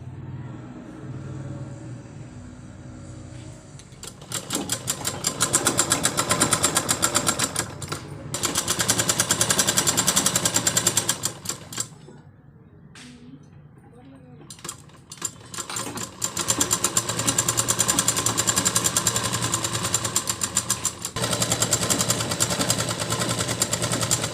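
A sewing machine stitches a blouse and its lining from the wrong side in close, rapid bursts of mechanical whirring, several runs of a few seconds each separated by brief quieter pauses.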